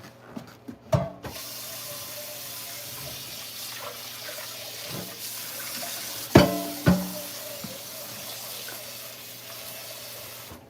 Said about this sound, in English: we're gonna wash this pan out so we can make our ermine frosting in it